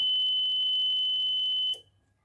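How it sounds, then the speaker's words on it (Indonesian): A buzzer driven through a relay in a simple 5V laser diode alarm circuit sounds a steady, loud, piercing tone, then cuts off abruptly near the end. "transistor kurang kuat untuk mendrive buzzer dengan relay"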